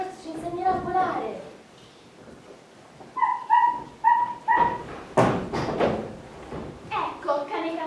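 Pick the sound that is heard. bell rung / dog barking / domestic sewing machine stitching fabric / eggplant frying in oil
dog barking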